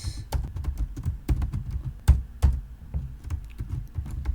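Fast typing on a computer keyboard: continuous, irregular key clicks that are close and moderately loud, with a few sharper, heavier strikes mixed in.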